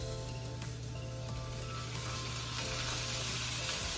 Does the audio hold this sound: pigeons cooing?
no